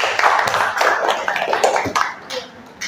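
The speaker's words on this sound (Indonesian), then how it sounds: "Tepuk tangan sekali lagi." A classroom crowd applauding together, steady dense clapping that tapers off toward the end.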